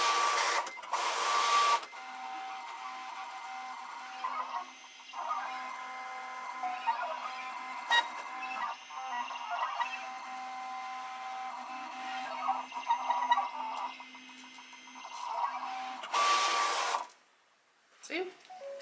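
A cutting machine slices sticker paper for a graduation fan, giving a steady mechanical whir with short bursts of carriage movement that stop and start, up close, followed by a brief quiet moment.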